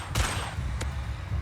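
Bombarda explosion spell in the Hogwarts Legacy video game, a short burst of sharp blasts: one strong crack near the start and a second briefer one shortly after, over low rumbling.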